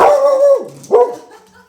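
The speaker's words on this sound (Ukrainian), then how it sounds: "Ти на Машу гавкала" A dog gives two close, loud bark-howls, the first drawn out and sliding down in pitch, the second shorter after a brief gap.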